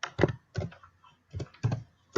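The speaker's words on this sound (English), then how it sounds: "I am a pecker when it comes to typing numbers, so I have to peck my numbers" Digits of a phone number are pecked out slowly on a computer keyboard, one key at a time. The key presses come in short clustered clicks separated by brief pauses and are close and clear, with no talking.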